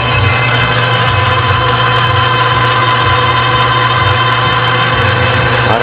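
A lathe steadily cuts a 1959 Evinrude Big Twin outboard engine block under automatic feed, giving off a loud, constant motor hum and drone with no talk over it.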